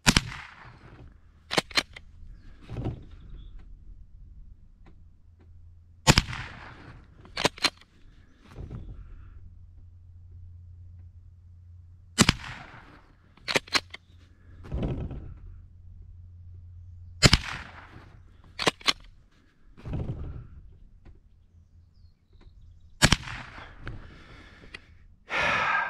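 A Winchester 62a rifle is fired while being sighted in outdoors. Sharp, separate cracks come every few seconds with quiet pauses, some faint breathing and small handling noises in between.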